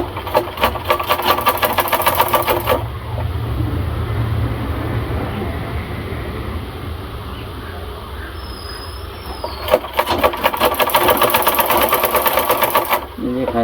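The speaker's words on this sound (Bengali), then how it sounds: "তো পায়জামাটা সেলাই করতেছি, তারপর জামা সেলাই করবো" An electric motor-driven sewing machine stitches pyjamas in two loud bursts of rapid, rattling needle strokes, nearby, with a quieter stretch between them.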